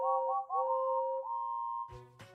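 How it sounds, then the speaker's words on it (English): Steam train whistles blowing together in cheer, loud sustained harmonious tones that bend and overlap for nearly two seconds, followed by two short clanking bursts. "Everyone cheered with whistles and horns."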